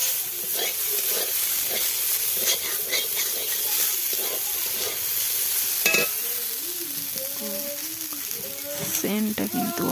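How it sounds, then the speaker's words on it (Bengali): Potatoes fry in a hot pan with a constant hissing sizzle and repeated scraping strokes as they are stirred, heard close up, with some faint background sounds toward the end. "দেখো হয়ে এসেছে আলু ভাজা, তারপর ধনিয়া পাতা দিয়ে আমি নামিয়ে নেব।"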